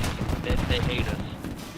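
Rapid burst of video game gunfire, many bullets fired in quick succession, loud and dense across the clip, mixed with voices and game noise.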